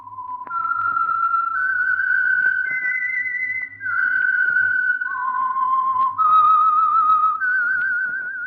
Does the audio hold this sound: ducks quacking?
no